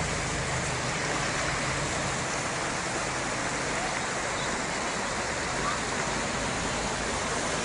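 Floodwater surges through a city street in a rushing torrent, a loud, steady roar of churning water that fills the whole stretch without a break.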